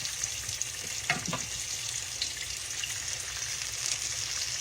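Catfish frying in hot grease in a skillet, a steady close crackling sizzle with scattered pops and a couple of brief scraping sounds throughout.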